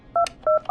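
Two quick touch-tone beeps of a telephone number being dialed in the radio-station video game Killer Frequency, clean and close with a short gap between them.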